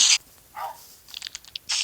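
A tamed dog in the Minecraft Pocket Edition video game gives a few short, sharp barks and crunchy bursts, spaced irregularly over a couple of seconds.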